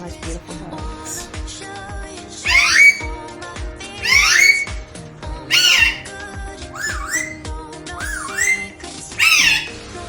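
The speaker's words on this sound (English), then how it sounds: "I just had to share this beautiful video with you of a cockatoo that we had in the gum tree yesterday afternoon" A cockatoo perched in a gum tree gives loud, rising squawks in repeated bursts about every one to two seconds. Other bird whistles and chirps sound close by, and no one speaks.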